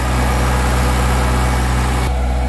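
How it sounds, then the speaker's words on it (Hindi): The engine of a four-wire tensioner puller machine used for cable pulling runs loud and close, a steady low rumbling drone with a constant hum that barely changes throughout. "मशीन का आवाज़ से हमारा आवाज़ ज़्यादा सुनाई नहीं पड़ता होगा। दोस्तों देखिए मशीन का इंजन"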